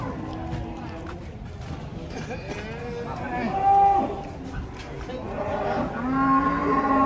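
Cattle brought in by truck moo repeatedly, several drawn-out calls rising and falling over a busy livestock setting, with people talking nearby.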